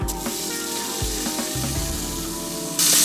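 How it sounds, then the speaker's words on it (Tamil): Large onions sizzle and sauté in hot oil for green peas pulao, a steady crackling hiss with a few stirring scrapes, louder toward the end. "இதையும் சேர்த்து கொஞ்ச நேரம் வதக்க போகிறோம்"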